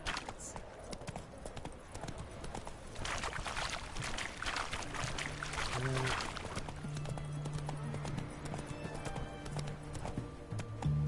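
The horse Roach in The Witcher 3 gallops with steady, rhythmic hoofbeats over a rushing game soundscape, with a brief whinny and a voice speaking over the top.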